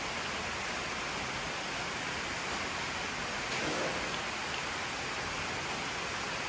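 Steady, dense rain with a gusty wind, a continuous broadband wash with a slight swell partway through, no voices.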